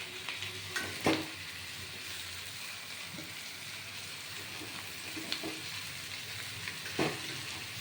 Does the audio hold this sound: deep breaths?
no